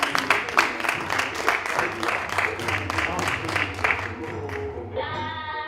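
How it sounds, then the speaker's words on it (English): A live audience applauds and cheers after a musical act at a freedom-themed show, a steady wash of clapping over background hum that thins toward the end as a tonal sound rises. "Let's give them a round of applause."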